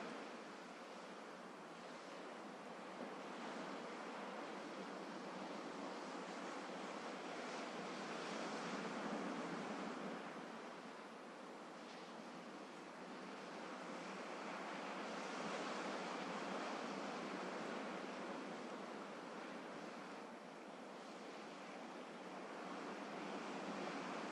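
Sea waves wash in a soft, continuous surf, rising and falling in slow, gentle swells at a moderate distance with a faint breezy hiss, and no voices.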